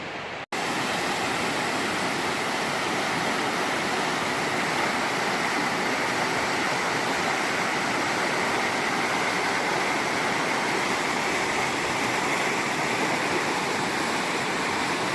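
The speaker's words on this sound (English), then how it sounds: "nice little lazy river here" A slow, lazy river in the Catskill Mountains wilderness flows with a loud, steady rushing wash that starts abruptly and continues unbroken throughout, with no voices.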